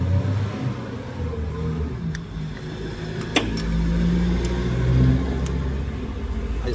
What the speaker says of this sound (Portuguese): A Sprinter saindo.